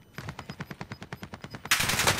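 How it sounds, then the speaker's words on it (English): Rapid automatic gunfire in Call of Duty Warzone, an even burst of about a dozen evenly spaced shots followed by a louder, harsher blast of noise. "there's our teammate over there getting shot at"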